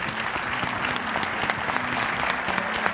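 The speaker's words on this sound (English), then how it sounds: "give me a real strong round of applause for our MC, Andy Sachs" An audience at a leadership closing session applauds their MC, Andy Sachs, with a steady roar of many hands clapping that holds at even loudness throughout.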